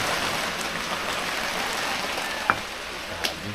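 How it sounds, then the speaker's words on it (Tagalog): Steady heavy rain pours down with a continuous hiss, punctuated by a couple of brief sharper drips or knocks near the end, with no voices. "Walang kasawa-sawa ang ulan."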